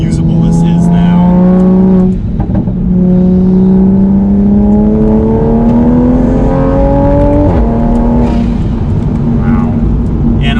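Tuned Toyota Supra A90 with a 450 WHP engine accelerates hard through the gears, its loud engine note climbing steadily with a brief dip at each shift, and an occupant speaking over the drone.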